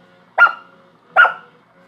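A person imitates a dog barking, giving two short, loud bark-like yelps about a second apart, close to the mic, with a third starting at the end.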